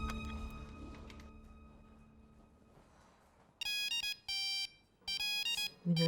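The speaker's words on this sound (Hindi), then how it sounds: "फोन क्यों नहीं उठा रहा?" A phone ringing unanswered, bursts of bright electronic ringtone tones starting partway through after a quiet lull, repeating in short rhythmic blocks at close, loud level.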